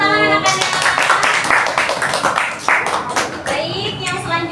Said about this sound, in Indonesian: Terima kasih Jeffrey, beri tepuk tangan anak-anak.